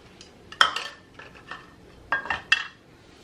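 Cornmeal pudding ingredients being mixed in a bowl with a utensil, giving sharp clinking and scraping strokes in uneven bursts, close and clear with quiet gaps between.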